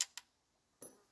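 Faint, close clicks of a Weaver scope's adjustment turret on a Savage Axis .223 rifle, two quick clicks near the start and a softer one near the end, in an otherwise quiet setting.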